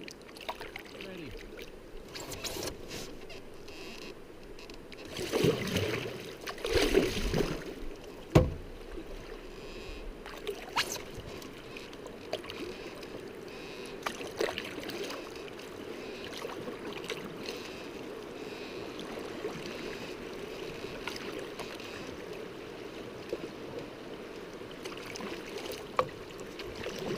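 A canoe glides through water on an October trip in Quetico, with soft paddle splashes and gurgling that swell briefly into louder sloshing before settling into a faint, steady trickle.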